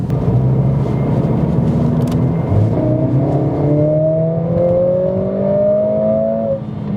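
A Mercedes-AMG CLA45S accelerating hard, engine note climbing through the revs with rising whine and gear changes, loud and close throughout with no talk.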